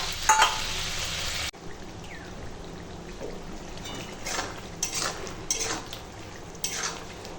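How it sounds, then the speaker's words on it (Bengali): Pumpkin, potato and chickpeas cook in a pot, giving a soft steady bubbling sizzle broken by several sharp clinks and scrapes of a utensil against the metal as the mixture is stirred. "দেখো এখন কুমড়ো ছোলাটা রান্না হচ্ছে"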